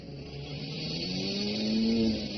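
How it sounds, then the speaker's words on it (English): A stick-shift car engine revs hard and climbs in pitch, smoke coming off it, a steady droning roar that rises and holds, heard up close with no talking. "Listen to the rev of the engine and the smoke coming off of it."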